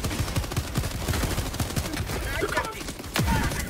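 Gunfire rattles in Helldivers 2 as a dense, continuous chatter of rapid shots fills the battle, with other crackling impacts layered in underneath.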